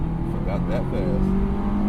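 A Honda S2000 (AP1) engine revs hard toward 9,000 rpm, a loud, steady high-pitched drone heard from inside the car, with a voice briefly over it.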